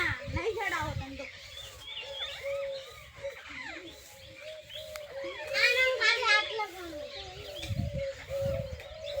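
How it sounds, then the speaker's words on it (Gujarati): Children shout and chatter while playing nearby at a temple, with birds chirping and calling in the background. "છોકરાઓ રમી રહ્યા છે"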